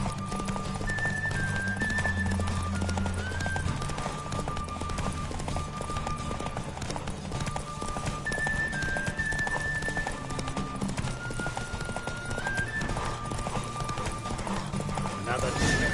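In a race in The Witcher 3 video game, a horse gallops hard with a steady, fast clip-clop of hooves throughout, running under voices and tonal game sound.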